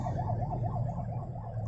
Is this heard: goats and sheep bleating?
no